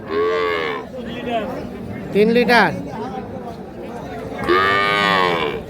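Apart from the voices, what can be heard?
cow mooing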